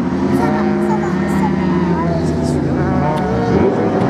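Renault Clio race cars run a slalom course at Lessay, their engines droning and revving nearby under continuous excited commentary.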